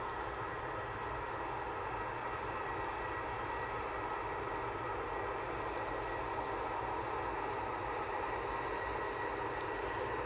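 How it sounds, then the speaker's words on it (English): A Eurowings Airbus A320 passes overhead at Manchester Airport, its engines giving a steady, broad roar that holds at an even level throughout, with no voices. "Let's see the Eurowings coming over now."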